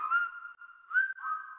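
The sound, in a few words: person whistling in a radio ad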